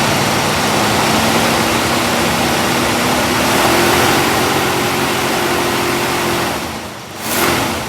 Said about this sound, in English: Let's give this a wee bit of RPM.